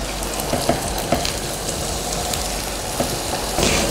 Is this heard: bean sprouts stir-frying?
yes